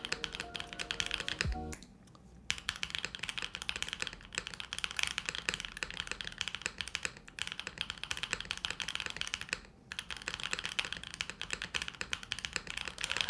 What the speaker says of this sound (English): It's a super solid spacebar sound too.